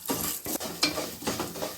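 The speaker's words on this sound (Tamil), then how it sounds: "எண்ணெய் நல்லா சூடான நம்ம உளுந்து சேர்த்துடலாங்க." Urad dal is stirred and fried in hot oil for homemade idli podi, giving a soft sizzle with repeated scraping strokes of a spoon or spatula against the pan, close and fairly quiet.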